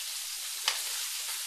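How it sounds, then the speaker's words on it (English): Meat searing in a hot pan until golden brown, giving a steady, close hiss of sizzling fat with one short sharp click partway through. "You're going to sear that on each side"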